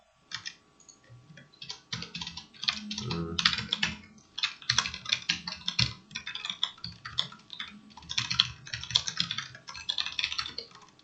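Close, fast clicking keystrokes on a computer keyboard as an ID and password are typed in, a continuous run of taps with short pauses and no voices.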